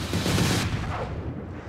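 A 671-grain incendiary round strikes a solid-filled concrete wall at 2,850 feet per second, a single loud, dense explosive boom that fades quickly, with no voices.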